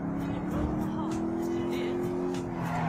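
A sports car drives in GTA V with a steady engine drone and tire noise, while someone talks over it throughout.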